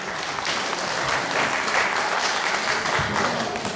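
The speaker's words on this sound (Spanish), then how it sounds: "Fecheci un aplauso." A crowd at a carnival street festival for San Cristóbal claps in dense, steady applause, loud and close, lasting throughout without a break.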